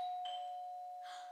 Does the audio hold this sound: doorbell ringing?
yes